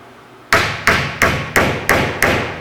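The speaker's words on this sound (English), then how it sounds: "drive that nail, and finally the fourth nail" A hammer drives a nail into a wooden layout frame for a Lionel FasTrack modular model railroad: six sharp, loud, evenly spaced strikes, each ringing briefly before the next, with no talking.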